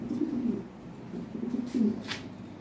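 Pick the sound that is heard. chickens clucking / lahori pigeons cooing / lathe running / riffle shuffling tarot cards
lahori pigeons cooing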